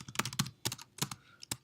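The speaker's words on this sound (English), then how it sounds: "If I type in PCG2, I want to send this to platform" Quick bursts of keystrokes on a computer keyboard entering a short login name, close and crisp with uneven gaps between clusters of taps.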